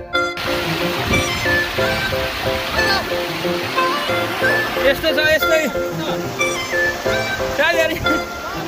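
A mountain stream rushes in a steady, loud broadband roar, with people talking over the flowing water.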